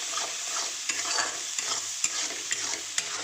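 Spice paste with turmeric stir-fried for a fish roe paturi, a spatula scraping and tapping the pan in a steady rhythm over a soft, close sizzle.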